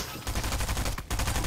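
Rapid bursts of shotgun gunfire in the video game Fortnite, loud and close, repeating in a quick rhythm with a brief gap near the end.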